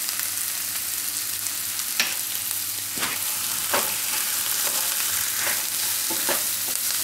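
Carrots and capsicum fry in a pan under a constant close sizzle, punctuated by intermittent scraping strokes of stirring spread across the stretch, with no voices.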